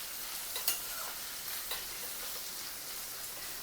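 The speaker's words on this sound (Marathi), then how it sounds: "आता हा कांदा आपण ह्याच्यात तळायला घालूया" Sliced onion fries in hot oil on low heat for Kolhapuri chicken, giving a steady, close sizzle with a few brief stirring scrapes, and no voices over it.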